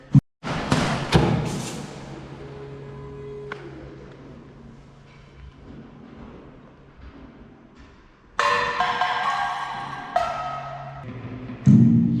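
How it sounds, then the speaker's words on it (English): Percussive knocks and metallic thumps come from an art installation of weapons of war rebuilt into instruments, sounding as scattered irregular hits with ringing tails and louder clustered strikes near the end, heard in a museum room. "Random percussive sounds emanating from the reconfigured weapons of war create a"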